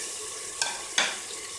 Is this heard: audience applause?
no